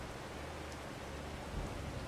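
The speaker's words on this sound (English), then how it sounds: "And the rain should be stopping in the next 15-20 minutes." Steady rainfall in the Farming Simulator 22 farm game, a soft, even hiss of rain with a low rumbling undertone, continuous and fairly quiet for a couple of seconds.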